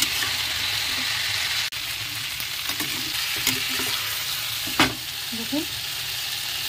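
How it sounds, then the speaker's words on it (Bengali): Eggs frying in a pan with spice masala, a continuous loud sizzle with stirring scrapes and a few sharp knocks, while a voice briefly speaks. "এখন 5 মিনিট মতন এরকম করে কষিয়ে নেব ডিমটা মশলার সাথে।"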